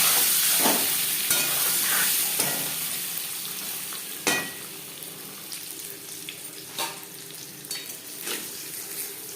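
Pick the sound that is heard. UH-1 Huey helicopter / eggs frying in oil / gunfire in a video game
eggs frying in oil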